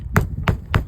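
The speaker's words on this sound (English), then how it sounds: "Now I have to hit the nail there" A hammer drives a roofing nail through an asphalt shingle in three evenly spaced, sharp blows, each a close, solid thud over a low background hum.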